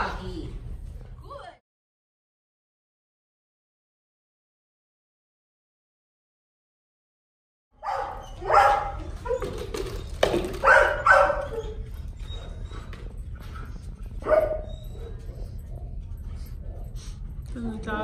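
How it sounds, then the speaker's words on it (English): Dog barking in the distance, a few short faint barks and yips scattered after a silence, partly under a person talking nearby. "Dog, you can hear the dog over there."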